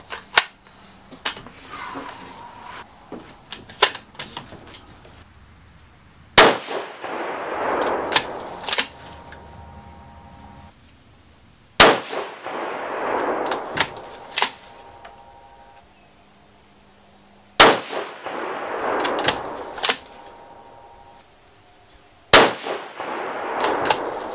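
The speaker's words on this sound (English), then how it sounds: "And we're going to go ahead and shoot 5 shots here." Several loud, sharp rifle shots from a Savage 110 Tactical firing 120-grain Gold Dot hunting loads, spaced several seconds apart. Each shot has a hard crack and a ringing decay outdoors, with quieter clanks and handling noise between them.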